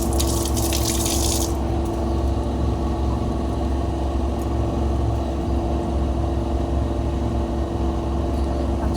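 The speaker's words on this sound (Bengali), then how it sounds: "মাছগুলোকে এখন আমি গামলাতে ঢেলে ভালো করে ধুয়ে পরিষ্কার করে নেব" Water splashes and rushes steadily as hilsa fish are washed in a basin, a loud, continuous wash with a brighter hiss in the first second and a low rumble underneath throughout.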